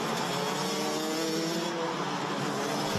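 Racing karts in a Rotax Max Challenge race at Wittgenborn, a continuous high-pitched two-stroke engine drone from several karts passing at speed, loud and steady throughout with no talk.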